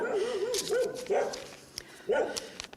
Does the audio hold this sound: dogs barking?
yes